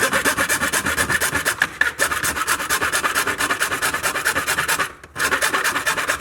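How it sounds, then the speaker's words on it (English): Small hand hacksaw cutting a triangle out of a truck part on a Toyota Tacoma, close and loud rhythmic back-and-forth rasping strokes, briefly pausing twice before the sawing resumes. "I'm just going to try to use this little hacksaw, cut a little square or a little triangle out."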